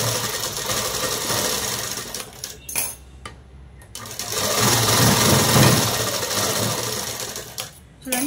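Sewing machine runs in steady, loud bursts while stitching the end of a dress cut from saree fabric, with brief pauses between runs and a faint voice underneath.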